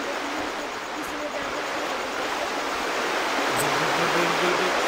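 A waterfall in the Farming Simulator 15 game pours as a steady, broad rushing hiss that grows slightly louder toward the end, with no voices over it.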